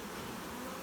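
A captured honeybee swarm buzzes inside a box, a faint, steady, even drone of many bees with no other sounds over it.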